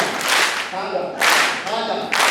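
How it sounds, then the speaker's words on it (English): An audience claps in loud, dense bursts at a gathering, with a brief lull between swells and a voice faintly mixed in. "Applause for me."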